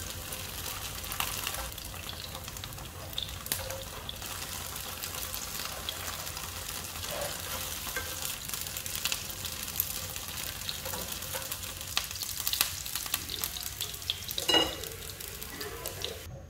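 Tofu frying in oil in a pan, a quiet steady sizzle with occasional stirring scrapes and a few light clinks near the end, no talking.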